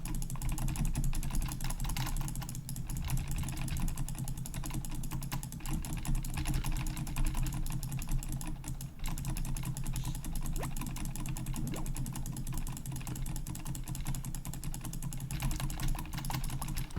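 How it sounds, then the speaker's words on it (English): Computer keyboard typing and mouse clicking during a video game session, a soft continuous patter of quiet keystrokes and clicks over a steady low hum, with no talk. "Sorry if you can constantly hear me clicking and stuff."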